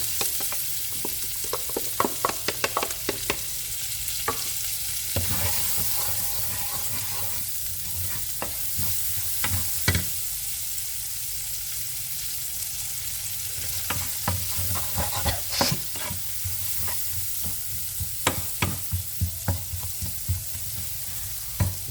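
Onions frying in a pan for a shrimp dish, a continuous close sizzle broken by repeated sharp stirring clicks and scrapes from a utensil, with no talking.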